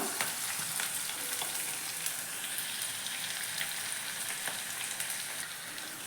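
Onion, green chili and garlic cloves sauté with salt in a pan, a soft, even sizzle with light crackling and occasional stirring taps, fairly faint and close, with no voice.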